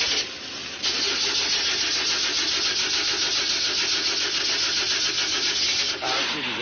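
A car engine cranks and labours to catch, a continuous loud grinding churn close by that runs for several seconds and then cuts off.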